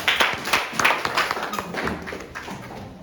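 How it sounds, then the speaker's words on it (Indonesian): A class of schoolchildren claps their hands together in a classroom, a burst of loose, uneven claps with some sharper taps and thumps that gradually thins out. "Oke, tepuk tangan buat kalian semua."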